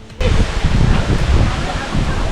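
Strong wind roars steadily through casuarina trees near a waterfall, a loud, dense rushing noise that starts abruptly and then holds almost unchanged, with heavy low-end buffeting on the microphone.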